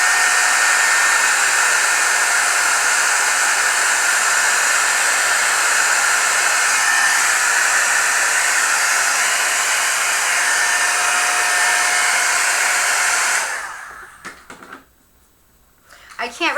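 A hair dryer blows steadily at close range for about thirteen seconds while drying glue on an art journal page, then cuts off, leaving a few faint handling noises.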